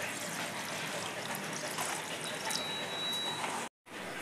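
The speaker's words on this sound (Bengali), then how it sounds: "সুজির যে ডোটা বানাবো তার জন্য জল দিয়ে দিচ্ছি কড়াইতে।" Water pours steadily into a wok for cooking semolina dough, a loud continuous splashing gush close by that breaks off abruptly near the end.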